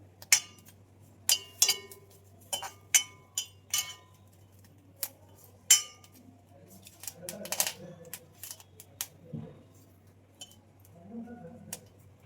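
Chillies roasting in a pan over low to medium heat for a tomato-coriander chutney give off sharp, irregular crackling pops through the first half, then quieter scattered ticks while a voice talks.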